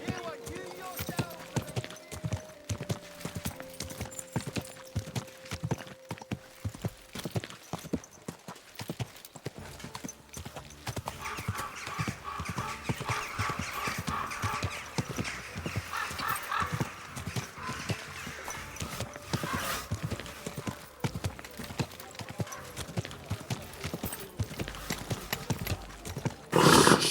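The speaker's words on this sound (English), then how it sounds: "Easy, good horse." Horse hooves clip-clopping in Kingdom Come: Deliverance 2, a steady brisk rhythm of close hoof strikes running throughout, with a brief whinny and some voices over it.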